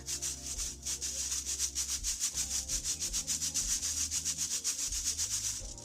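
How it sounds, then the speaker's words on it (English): Flour with sugar and salt is pushed through a sieve, making a steady run of about twenty close, even, scratchy rubbing strokes at a regular rhythm. "We're gonna sieve it, okay? So the flour can get light and fluffy, okay?"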